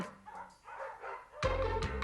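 Caged puppies in a pet shop yipping and barking excitedly, a few short calls followed by a louder, sustained burst of barks at close range.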